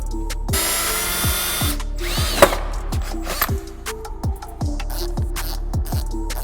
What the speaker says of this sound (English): the stock doors are riveted in, so we're gonna have to go ahead and drill these out to remove the door